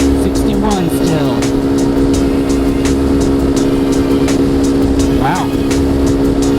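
A Lifan KP Mini motorcycle climbs uphill on a freeway, its engine holding a steady, buzzing drone under heavy wind noise, with a few faint whistling sweeps from passing traffic.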